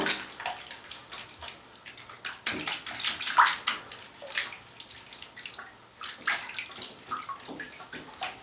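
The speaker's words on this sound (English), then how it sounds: "all you gotta do is rinse them off." Water runs and splashes in a bathtub as a ferret is rinsed, a continuous close, soft splashing with irregular pours and drips throughout.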